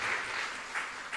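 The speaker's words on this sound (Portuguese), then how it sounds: "Você pode dar um aplauso bem forte ao Messias." Church congregation applauding during an evening family worship service, a steady wash of clapping that swells and fades briefly, with no talk over it.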